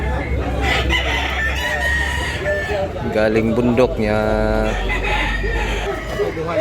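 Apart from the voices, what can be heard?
roosters crowing at a chicken market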